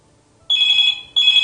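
A telephone rings into a morning radio call-in show, two loud, close electronic ring bursts with a short gap between them.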